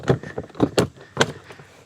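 A Klein Tools MODBOX drawer locks into place on its floor and wall plate, giving a few close, sharp plastic clunks and clicks in quick succession with no talking.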